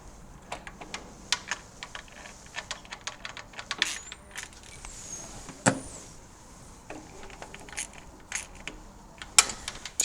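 Stubby ratchet tightening the starter motor cover bolts on a Suzuki DR650, a close series of rapid pawl clicks in short bursts with pauses and a few sharper metallic knocks.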